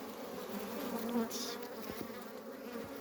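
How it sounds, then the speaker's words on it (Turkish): A dense, continuous buzzing of many honeybees close by at an open hive, humming steadily with a slight swell in the middle. "Arısı saldırıyor şu an."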